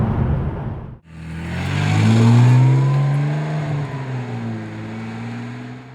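A Ferrari 612 Scaglietti V12 fires up sharply after a brief lull, then accelerates hard with a loud, rising, sustained engine tone heard from inside the car.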